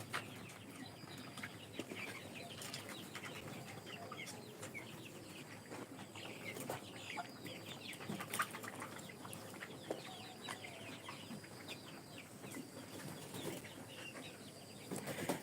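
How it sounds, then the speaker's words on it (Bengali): Chickens on a small farm cluck and murmur in a continuous, low-level chorus, with faint rustling and occasional wing flaps in the background. "মুরগি কেমন আছে মুরগি ভালো আছে"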